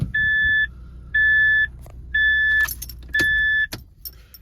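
Four loud, evenly spaced electronic beeps from a car at night, each about half a second long with short gaps between them, over a low engine rumble and faint rustling.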